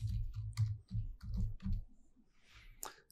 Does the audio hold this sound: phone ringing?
no